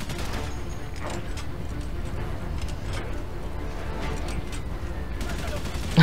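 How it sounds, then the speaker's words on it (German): Gunfire in Valiant Hearts: The Great War, a steady din of distant shots and rumbling battle noise running throughout, with a louder burst at the very end. "Die können schießen, wie sie wollen."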